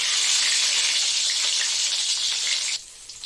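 Pointed gourd (potol) rubbed with salt and turmeric fries in a pan with a loud, steady, close hiss of sizzling that carries on unbroken, then drops noticeably quieter near the end.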